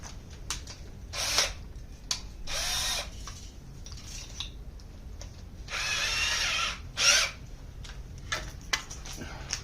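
A power drill bores holes in a mandocello in several separate bursts, each a few seconds of close, loud whirring, with short pauses and small clicks and knocks between them.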